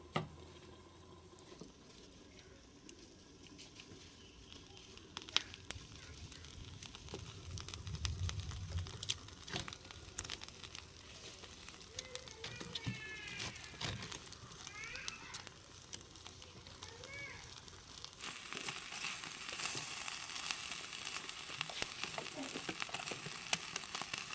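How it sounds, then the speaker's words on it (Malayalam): Dried sardines roast on glowing wood-fire embers in a hearth, giving a faint, steady crackle and soft sizzle with scattered small pops. The hiss grows louder and denser over the last few seconds. "അപ്പോൾ അതൊന്ന് ചുട്ടെടുക്കാമെന്ന് വിചാരിച്ച് നല്ല തീയുണ്ട് കേട്ടോ ഇപ്പോൾ കനലും എല്ലാം ഉണ്ട് അപ്പോൾ ഒന്ന് അടുപ്പിലോട്ട് വെച്ചു കൊടുക്കാമെന്ന് വിചാരിച്ച്"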